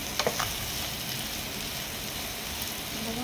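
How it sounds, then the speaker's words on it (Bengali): Kachu lati with small dried fish frying in a pan gives a steady, close sizzle, with a couple of brief scraping clinks from stirring near the start, and no talk. "এভাবে নাড়তে হবে এটাকে।"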